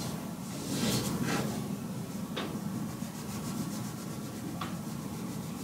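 A wax crayon pressed down hard on paper, giving a steady dry rubbing rasp that runs continuously and fairly quiet, with a couple of sharper scratchy strokes along the way.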